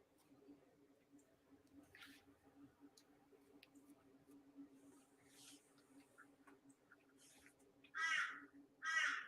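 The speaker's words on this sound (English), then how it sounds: "I think the crow agrees." A crow caws twice in quick succession, two loud, close calls near the end after a long stretch of quiet background hum with faint scattered sounds.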